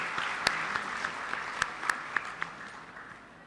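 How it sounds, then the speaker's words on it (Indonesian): At a university graduation ceremony, an audience gives moderate applause, a fairly soft sustained patter with a few sharper nearby claps standing out, gradually fading toward the end. "Sekali lagi kita tepuk tangan untuk orang tua kita yang hebat."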